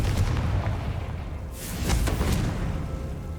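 A blasting-spell explosion in the Hogwarts Legacy video game, a deep booming burst followed by whooshing crackles, heard over a low game soundscape.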